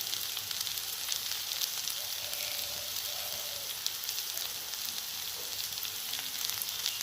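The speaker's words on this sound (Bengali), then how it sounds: "এখানে খোলাগুলো খুব ভালো করে ভাজা হয়ে গেছে" Vegetable peels of pointed gourd, potato and pumpkin fry in oil in a pan for a Bengali dish, giving a steady, moderately quiet sizzle and crackle throughout with no talking.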